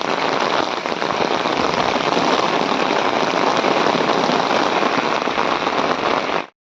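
Heavy monsoon rain in Dapoli pours steadily in a loud, dense roar, with wind, continuous from start to finish before cutting off abruptly.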